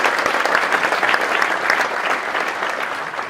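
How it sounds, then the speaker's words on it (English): Conference audience gives sustained, even applause for the organisers and sponsors before an opening keynote, dense and loud with no talk over it. "I'd just like to ask that we give a round of applause to the organisers, HISA and Situation, and our sponsors"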